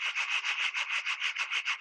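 A Kraft macaroni and cheese box rubbed to imitate a train, giving a steady rhythmic chugging scrape of about eleven even pulses, close and clear with no talking.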